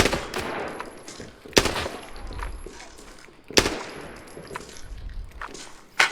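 Gunfire in the game Arena Breakout Infinite, a few loud sharp shots with metallic clangs and ringing tails, separated by quieter gaps with low rumbling, with brief voices nearby.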